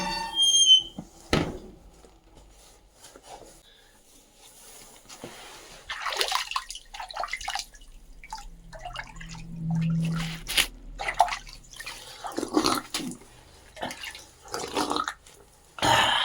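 Water drips into a naula, a traditional stone spring tank in a village near Almora, with scattered soft drips and splashes that come and go over a quiet background, plus a brief low squeaky hum partway through.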